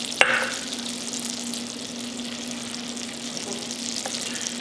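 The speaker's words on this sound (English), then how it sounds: "I put about 1/4 cup of butter in the bottom of this pan just to get this stuff melted" About a quarter cup of butter melting in a pan on the stove, a steady close hiss and sizzle throughout, with a sharp clink at the start.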